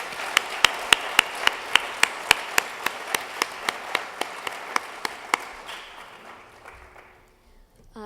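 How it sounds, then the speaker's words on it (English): Audience applause after an arangetram performance at a felicitation gathering, sharp regular claps about 0.4 seconds apart, probably a small group clapping in unison, fading into quiet room tone after about six seconds. "Can we give them another round of applause real quick?"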